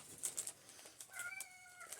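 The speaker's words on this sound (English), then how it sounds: "Meow, what's the matter, Ash?" A pet cat named Ash gives one short, faint meow, mixed with soft rustling and light tapping noises close by, with no voices.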